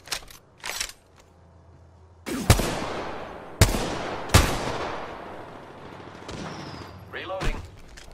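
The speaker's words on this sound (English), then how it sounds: "Listen up, I'm getting shot at." Several heavy, separate gunshots in Apex Legends ring out at close range, with short bursts and lingering echo between them, along with other game sounds.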